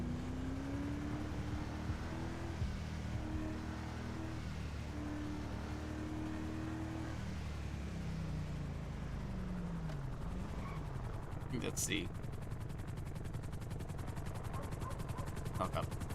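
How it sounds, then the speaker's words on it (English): In Grand Theft Auto role play, a helicopter flies very low overhead: a steady churning rotor drone under constant car engine and road noise, with a few sharp clicks near the end. A voice speaks briefly. "Helicopter flying very low."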